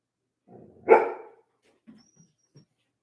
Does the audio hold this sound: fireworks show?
no